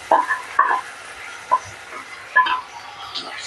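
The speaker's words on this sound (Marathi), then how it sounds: "हे सगळं एकदम टाकून घ्यायचं आणि चांगलं जरा मस्त परतून घ्यायचं" A spice mixture with tamarind pulp for pulihora rice is stirred in a pan, with a soft sizzle under scattered scraping and clinking of the spoon against the pan, close and moderately quiet.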